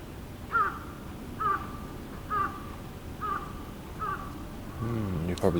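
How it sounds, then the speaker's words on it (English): A raven in a residential neighbourhood of Kobe, Japan gives five evenly spaced, harsh caws at a moderate distance, followed by a louder, more tangled burst at the end over faint background noise. "That's the sound of a, I think, raven."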